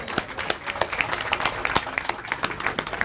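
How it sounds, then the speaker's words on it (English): A small crowd at a first responders award ceremony in a coffee shop claps in a loose, uneven round of applause, individual claps standing out near and crisp throughout. "Let's give them another round of applause."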